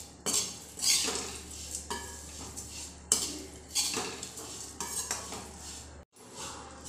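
Pumpkin seeds and oats roast over a low flame in a pan for gond laddoos, a spoon scraping and rattling through them in repeated strokes over a faint sizzle.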